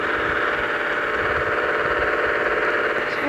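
A Traveller van's engine runs in first gear with a loud, steady drone and a faint rattle that holds evenly throughout.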